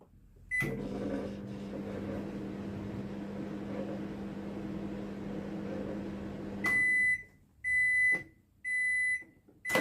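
Sharp R-2121FG microwave oven with a no-heating fault running during a test, a steady low electrical hum for several seconds, then a few loud, evenly spaced beeps when it stops.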